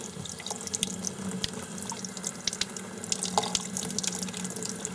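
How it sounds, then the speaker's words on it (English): Tap water runs steadily over a dental stone model in a sink, a continuous close splashing stream broken by small drips and clatters. "We'll do this by running it under water and prying from the back of the model."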